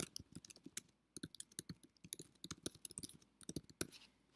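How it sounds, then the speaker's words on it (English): Rapid typing on a computer keyboard, a run of close, crisp key clicks in uneven bursts with brief pauses, heard alone. "You can type whatever you want here."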